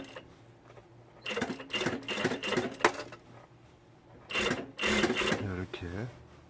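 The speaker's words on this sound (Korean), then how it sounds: "밑부분을 이렇게 스티치 작업을 하는 겁니다." A sewing machine stitches the hem of a shirt in short bursts, with two clusters of rapid mechanical whirring separated by quieter pauses, close and moderately loud.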